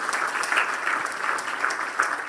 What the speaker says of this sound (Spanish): dele un fuerte aplauso al Rey de Reyes, Señor de Señores